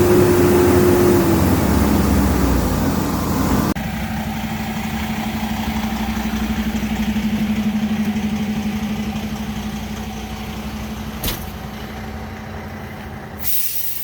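A semi truck's diesel engine idles with a steady low drone and air hiss while it backs out, probably through a gravel area, with a sharp pneumatic burst near the end.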